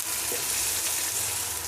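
Chopped onion sautés in a pan while being stirred, with a brief, even, moderately loud sizzle and no voices over it.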